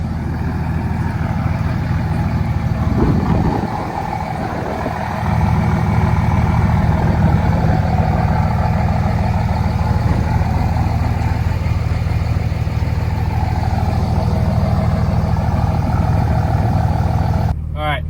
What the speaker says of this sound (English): hear what it sounds like with no muffler and a 4 to 6 inch tip